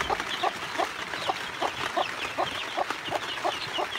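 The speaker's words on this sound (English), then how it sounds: "The broody hen is doing good. She's being a good mother with her chicks." A broody hen clucks steadily beside her chicks in a mobile chicken coop in miserable wet weather, giving close, rhythmic, repeated soft clucks over a noisy outdoor background.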